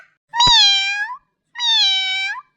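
A cat named Aavarappoo gives two drawn-out meows, each just under a second long, separated by a short pause. Both are loud and close, with no other sound around them.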